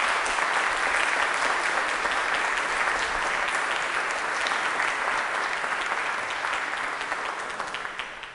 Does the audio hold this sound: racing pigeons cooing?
no